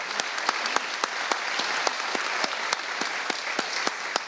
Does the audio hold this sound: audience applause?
yes